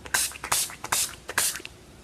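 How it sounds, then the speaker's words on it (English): A 10 Years Younger finishing spray is spritzed onto a face in four quick hissing bursts, close and fairly loud, with brief pauses and small rustles between them. "I'm gonna shake up my 10 Years Younger finishing spray"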